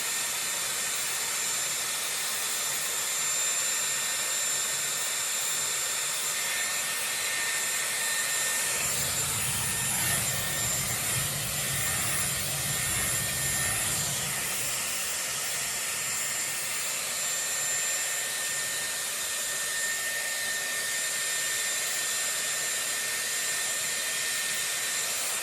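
A Dyson Airwrap with a round brush blows air through hair in a steady, even hiss, with a deeper, fuller gust swelling for several seconds midway as the brush is rewrapped, all without talk.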